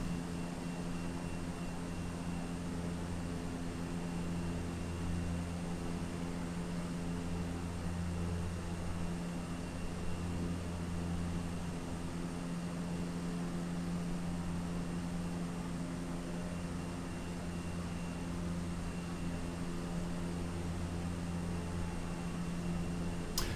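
An airplane engine in the Microsoft Flight Simulator video game drones steadily for over twenty seconds, a constant hum mixed with broadband noise that stays unchanged throughout, with no talk.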